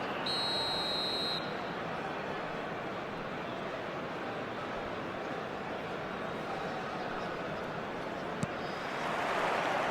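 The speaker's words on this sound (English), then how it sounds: "There's the whistle." In an eFootball 2026 Mobile match, a referee's whistle gives a short, sharp, high blast at the start, over the steady roar of a stadium crowd that continues throughout.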